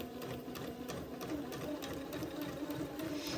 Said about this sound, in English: I'm going to sew the first basting thread about 1/8 of an inch away from the top of the batiste strip